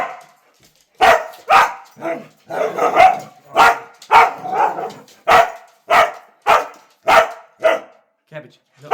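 Dog named Cabbage barking loudly and repeatedly nearby in sharp, evenly spaced bursts, roughly one bark per half second, with a few whimpery yips mixed in and no talk over them.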